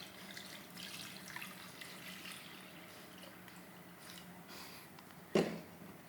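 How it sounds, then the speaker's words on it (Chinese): Water runs steadily from a tap into a pot on a home stove, a soft continuous hiss and splash ending with a sharp clunk near the end, no talking. "先加水把水加到差不多"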